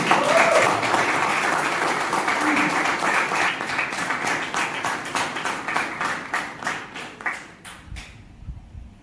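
Audience applause at a Toastmasters club officer installation: a steady burst of clapping that thins into scattered individual claps and fades out toward the end.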